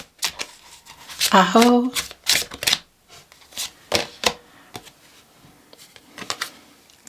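Tarot cards shuffled and drawn, a series of crisp papery riffles and slaps in short uneven bursts, close and fairly quiet, with a brief spoken word between them.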